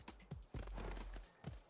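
A horse unit arrives in a Civilization VI match with a few hoof clops and a brief whinny-like burst, moderately loud over faint background game sound.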